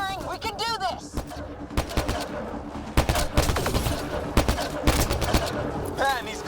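Dense gunfire from a Mass Effect firefight: rapid bursts and sharp repeated shots rattle loudly throughout, mixed with whooshing weapon effects and chirping sci-fi tones.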